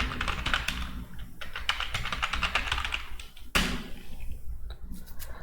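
Rapid keystrokes on a computer keyboard while entering a payment voucher in Tally Prime, a dense run of close clicks and taps with one sharper knock midway, no talking.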